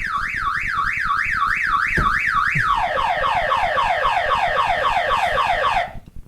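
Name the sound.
car alarm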